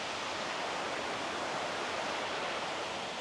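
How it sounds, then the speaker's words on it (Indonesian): Brantas River flowing beneath a bridge, a steady dense broadband rush of moving water, loud and even throughout with no talk. "ini dia nih, lebih jelas Sungai Berantasnya"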